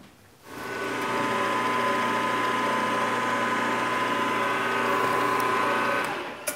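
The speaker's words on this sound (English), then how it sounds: "because the cutter's turning clockwise, I'm going to come across the front edge first" Milling cutter machining C110 copper soft jaws, a steady close machine whine with constant tonal hum that starts after a brief pause, holds evenly for several seconds, then tapers off, with no talking.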